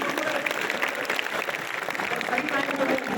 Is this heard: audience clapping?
yes